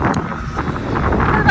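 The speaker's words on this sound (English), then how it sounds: "It is really windy, but it's sunny" Strong wind buffets the microphone during an outdoor run on a sunny, cold day, a steady broadband roar with low rumble lasting throughout, close and fairly loud, with no speech heard.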